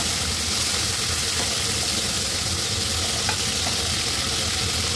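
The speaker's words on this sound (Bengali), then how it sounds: "মাছগুলো বড়া করে ভেজে নেব" Tilapia fish pieces deep-fry in a pan of oil, a loud dense sizzle that crackles steadily and evenly throughout with no pauses and a few faint clicks.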